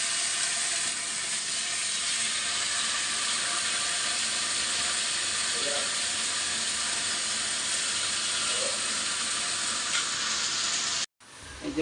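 Spicy chicken sizzling in a large wok, a steady hiss of frying and steam heard close, ending in an abrupt cut-off and a brief clatter.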